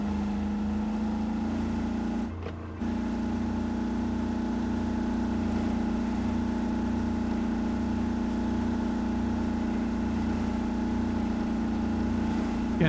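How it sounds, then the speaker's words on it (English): Steady engine drone of the DLC Scout vehicle in the PS5/Xbox game RoadCraft, a loud continuous hum with a low rumble, briefly dipping once, then holding constant. "the engine sounds might be a little bit loud"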